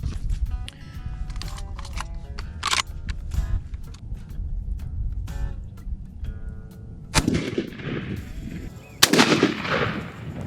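A turkey shotgun is fired while it is being patterned at 20 yards, with loud sharp bangs nearby mixed with clicks and handling noise, and a strong blast near the end.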